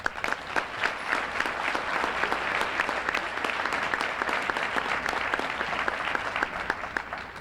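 A large audience claps warmly at an education summit, a dense steady applause with distinct individual claps, sustained at even volume throughout.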